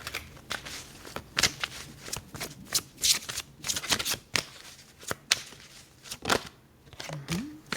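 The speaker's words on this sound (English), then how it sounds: "Let's shuffle, shall" Oracle cards are shuffled close up in a run of crisp, irregular riffling and slapping bursts, with a brief low voice near the end.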